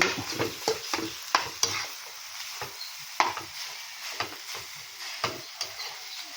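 Homemade fried rice stir-fried in a pan, with a steady sizzle and repeated sharp scrapes and clinks of a utensil against the pan at an irregular rhythm, close and clear with no talk.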